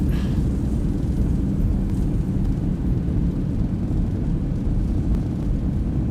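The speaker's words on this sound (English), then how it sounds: "Reversers are out." Boeing 737-800 thrust reversers roaring on landing in the X-Plane 12 flight simulator, a steady loud low-pitched rumble that holds constant throughout with no talk.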